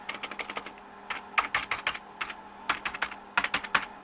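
Typing on a Memorex Turbo keyboard with loose, shaky keys, rapid close clacking keystrokes in bursts with brief pauses, no talk.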